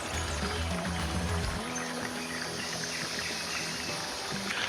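Club soda poured into a summer cocktail, a steady fizzing trickle with a heavier gush in the first second or two, then a continuous light splashing stream close by.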